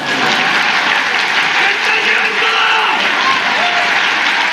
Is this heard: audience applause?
yes